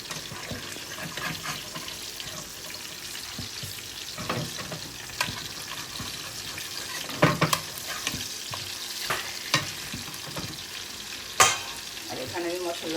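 Spices frying lightly in a pan for Bengali rui fish kalia, a steady close sizzle with occasional stirring clinks and scrapes, no talking.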